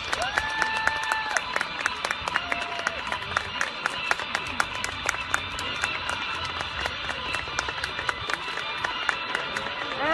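Crowd applause and clapping at an archery medal ceremony, a steady dense patter of many hands sustained throughout, moderately loud and continuous, with faint crowd voices mixed in.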